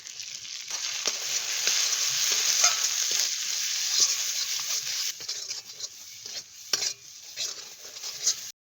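Spices and tomatoes sizzle in hot oil for a fish roe kofta curry, a steady frying hiss broken by scraping and stirring clicks from a utensil against the pan, with no one speaking.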